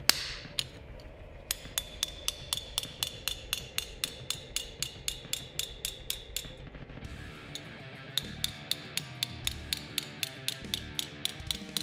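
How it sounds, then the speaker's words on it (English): Steel gauntlet cuff hammered to knock down a line in armor making, giving a steady series of sharp, ringing metallic blows at a regular rhythm, close and clear with no talk. "And I'm just knocking it down now."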